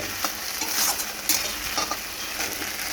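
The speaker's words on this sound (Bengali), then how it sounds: "আর এদিকে তোমার কচুরলতি ভাজতে বসিয়ে দিয়েছি।" Taro stolons fry in a pan with a constant close sizzle, broken by repeated soft scraping clicks of a spatula stirring, and no speech.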